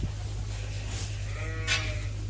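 Sheep bleat on a farm before lambing, with one wavering bleat rising in the middle of the clip over a steady low hum and background noise.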